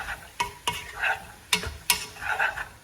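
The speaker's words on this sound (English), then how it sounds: "just stir it up, get the oil kind of spread out so it coats everything" Onions sizzling in oil in a pan while a flat spoon stirs them, a close crackling fry with several sharp scrapes and knocks of the spoon against the pan, no voices.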